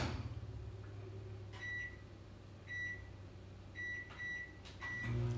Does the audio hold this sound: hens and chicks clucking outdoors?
no